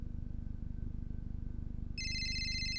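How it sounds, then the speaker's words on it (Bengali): A mobile phone ringtone starts abruptly partway through, a quiet repeating electronic ring over a low steady hum. "আমার ফোনটা বাজছে না"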